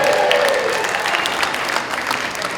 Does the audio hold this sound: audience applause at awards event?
yes